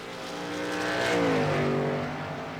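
A race car in a racing video game passes on track, its engine drone swelling to a peak and then dropping in pitch as it goes by, loud and unaccompanied by talk.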